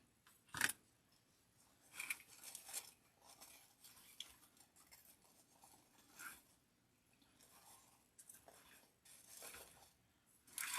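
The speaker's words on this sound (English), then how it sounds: "I'm not going to trim too much off of that candy corn ribbon" Scissors snip candy corn ribbon while a grapevine wreath is decorated for Halloween, with a sharp cut near the start and then scattered lighter snips and rustles of ribbon handled close by. Nobody speaks.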